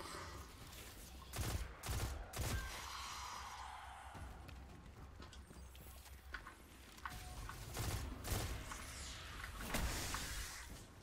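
Shots from a newly picked-up gun in Destiny 2 ring out in irregular bursts, sharp cracks scattered over a busy game soundscape of whooshes and hums, with no talking.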